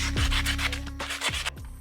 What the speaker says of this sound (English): I'm just going through with some medium grit paper, sanding down the edges